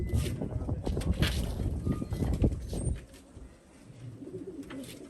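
Pigeons in a loft coo repeatedly in low, throaty bursts, dense and close for the first few seconds, then quieter, with faint background voices.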